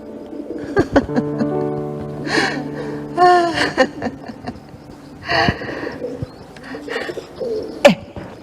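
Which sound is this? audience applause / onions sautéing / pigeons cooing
pigeons cooing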